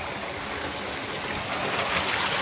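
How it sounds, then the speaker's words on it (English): Cold, snowmelt-fed stream rushing through a narrow slot canyon, a steady broadband roar of moving water, close and continuous throughout with no talk. "The water is just rushing through here."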